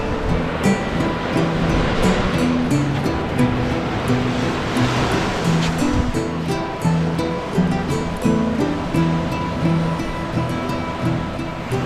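Ocean waves wash steadily against an island shore in Sri Lanka, a continuous, fairly loud roar of surf with no voices, a low hum running underneath.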